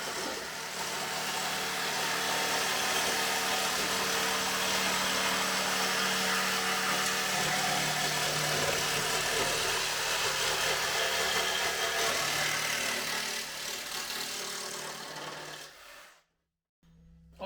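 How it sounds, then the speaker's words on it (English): A Sawzall reciprocating saw chops through the metal wing of a car, giving a continuous harsh buzzing roar that holds steady for about sixteen seconds, close and loud, before stopping abruptly with a brief fade. "So let's get the Sawzall"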